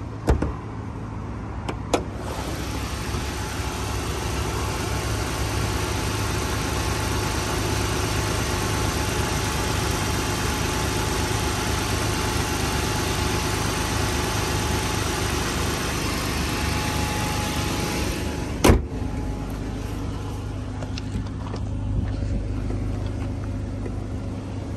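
A 2006 Dodge Charger with the 2.7 liter six-cylinder engine and automatic transmission idles steadily and continuously at close range, a low even hum with a couple of brief clicks or knocks near the start and around the twenty-second mark.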